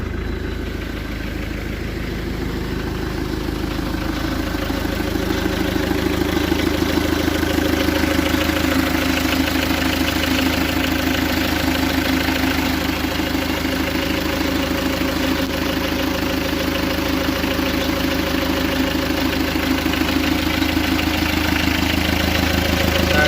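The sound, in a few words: Mazda Capella 626 diesel engine started and idling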